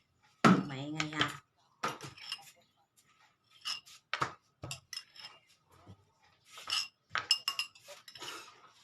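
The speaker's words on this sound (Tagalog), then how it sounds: "Tapos haluin natin" A spoon clinks and taps against a glass while stirring Yakult with kalamansi, heard as sharp, irregular chinks and short scraping strokes separated by quiet gaps, with a louder rattle at the start.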